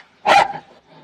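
A single dog gives one sharp, loud bark close by, followed by a brief softer trailing yelp, in a western drama scene.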